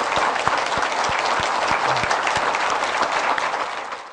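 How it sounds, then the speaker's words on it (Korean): A church congregation claps together in a dense, sustained round of applause, steady throughout and tapering slightly at the end. "우리 다시 한번 박수"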